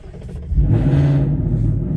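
A Ford Mustang engine cranks and fires at a car show, settling into a loud, deep exhaust rumble that holds steady once running, with no voices over it.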